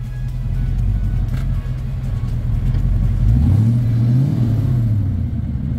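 A Foxbody Mustang with dual MagnaFlow exhaust idles with a deep rumble, then one throttle blip swells and falls away, close and alone.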